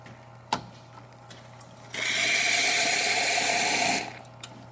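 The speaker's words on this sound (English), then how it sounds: "Let's test out the water spout." Water spout on a Quick Mill espresso machine running, a bright, even hiss of flowing water for about two seconds, framed by a few knocks and clicks from the machine.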